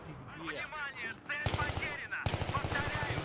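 Rapid bursts of gunfire from a shooter at an airsoft team event in a large forest, loud sharp repeated shots in quick rhythm, joined by a second burst later, with people talking over the firing at the start.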